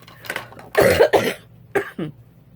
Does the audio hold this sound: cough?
yes